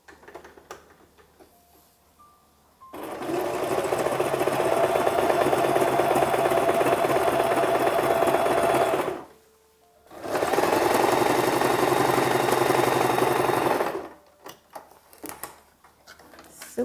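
Sewing machine running a mid-width zigzag stitch along fabric edges in two long, fast, steady bursts separated by a short pause, close and loud.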